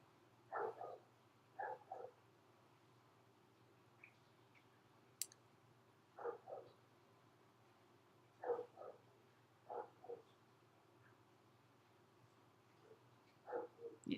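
A dishwasher runs somewhere in the background, giving a faint, steady low hum broken by irregular short sloshing or clicking bursts every second or two, with no voices.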